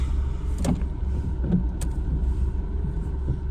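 Car interior while driving through slow traffic in a jam, with a steady low engine and road rumble and a few faint clicks and knocks, no talking.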